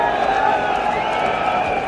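A huge stadium crowd of Indian supporters cheers at a 1983 World Cup cricket match between India and England, a dense, steady, roaring wash of voices with no pauses.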